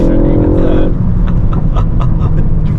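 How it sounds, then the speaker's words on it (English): A 2022 MK4.5 facelift Ford Focus ST sends a short run of crackling exhaust pops over a droning engine as the revs drop, heard from inside the car with voices talking. "Oh, I love the little pops."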